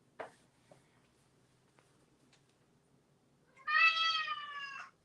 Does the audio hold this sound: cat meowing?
yes